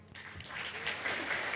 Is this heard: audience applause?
yes